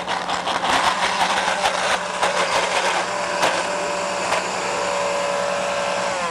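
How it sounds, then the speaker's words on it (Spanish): A blender whirs loudly and steadily, blending pesto with olive oil, a dense whirring roar with brief crackles that holds nearly unchanged throughout, with no talking. "Vamos a licuar."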